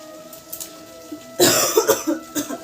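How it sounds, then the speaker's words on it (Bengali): A quiet background hum, then a burst of several harsh coughs in quick succession, close and fairly loud. "কি কাশি হয়েছে জানো তো"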